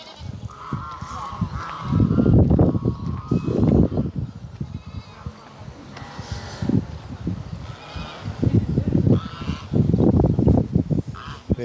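Ducks on a livestock farm call loudly in repeated, honking bursts as they rush toward the camera. Bleating sheep and other fowl are mixed in nearby.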